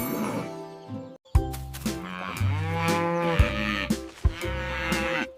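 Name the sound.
cow mooing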